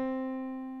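Two piano notes, C and then D, played one after the other to demonstrate a second in a 5th grade music lesson; a clean, steady sustained tone, close and alone with no talking.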